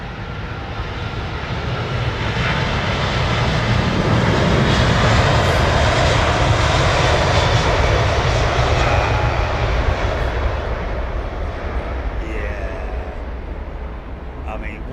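A P-51 Mustang piston-engine warplane drones steadily and loudly for the whole stretch, a continuous rumbling roar that swells slightly in the middle, with people talking over it.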